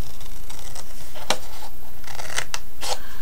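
Scissors cut through paper in a few crisp snips, spaced irregularly and heard up close over a steady background hiss, with no one talking.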